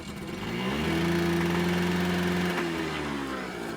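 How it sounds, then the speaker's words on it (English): A tiny Honda Squash 50cc two-stroke scooter engine runs close by on a lawn, its buzzing drone rising briefly as revs climb and hold, then easing back, with no voices. "So yeah, a very typical 50cc two-stroke."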